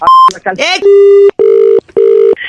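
Telephone dialing and call tones from a comedy prank call, with a quick burst of keypad beeps and then three loud, long repeated ringback tones separated by short gaps, close and clear.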